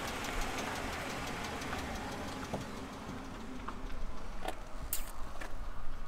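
A tourists' car engine idles and rumbles with a knocking, mid-pitched drone in open country, growing slightly louder as it drives by, with a few faint clicks over the top.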